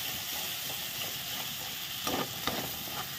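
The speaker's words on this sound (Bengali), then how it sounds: "মশলাটা কষিয়ে নেব ভালো করে।" Spice masala of coriander powder and chili powder fries in a pan with a splash of water for a paneer curry, giving a steady soft sizzle with a couple of brief louder spurts; no talking.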